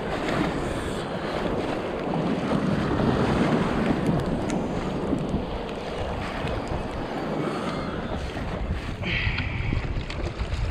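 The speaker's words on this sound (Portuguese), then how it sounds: "aqui a jangada sai andando devagarzinho" Steady broadband rush of wind and sea water as a small jangada fishing raft moves slowly over waves in the rain, continuous and fairly loud with no voices.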